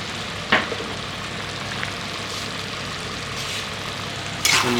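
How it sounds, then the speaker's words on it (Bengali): Paneer and ground spices including cumin and Kashmiri chilli powder sizzle softly in a pan, with a couple of sharp scrapes of the stirring spoon standing out against a steady low frying hiss. "নাড়িয়ে দিই।"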